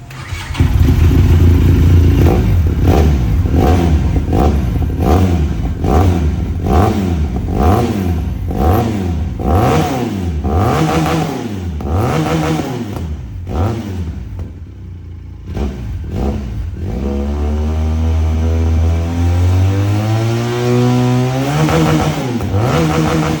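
A Benelli TRK 502 motorcycle engine revs repeatedly, rising and falling in pitch in rhythmic bursts, then settles into a smoother rising drone, close and loud.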